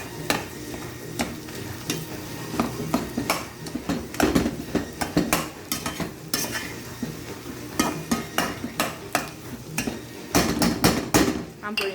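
A spoon breaks up cooked potato in a bowl, making repeated sharp scraping and tapping clicks in an irregular rhythm, close and fairly loud with no talking.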